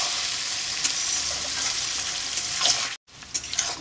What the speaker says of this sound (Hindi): 2 मिनट हो गया फ्राई करते हुए